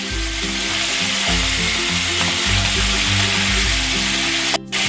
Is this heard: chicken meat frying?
yes